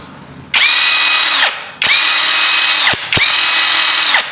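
A Tanzu 330 N·m electric impact wrench whirs loudly in three separate runs, each starting abruptly and stopping after about a second, close by with no talking.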